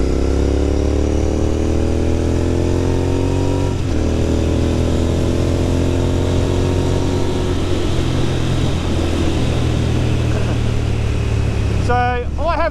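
Royal Enfield-style Continental GT 650 Twin parallel-twin engine while riding, a loud steady drone with rising harmonics as it accelerates, shifting pitch with gear changes, and wind rush throughout.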